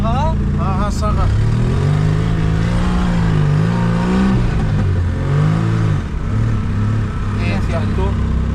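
A car engine revs hard and steadily while climbing uphill toward a village, its pitch rising and falling under the strain, with people talking loudly over it throughout.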